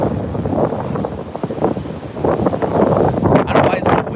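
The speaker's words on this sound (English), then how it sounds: "I don't know why it's so windy today." Strong gusty wind blows outdoors near water after a night of severe weather, buffeting the microphone in loud surging rushes that rise and fall and build stronger toward the end.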